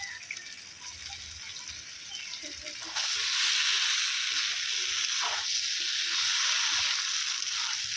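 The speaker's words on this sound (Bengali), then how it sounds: "ভেজে রাখা আলুগুলো চিকেন কষার মধ্যে দিয়ে দেবে।" Fried potatoes go into a pan of simmering spiced chicken curry, and the soft background sizzle abruptly swells into a loud, steady hiss of frying that continues to the end.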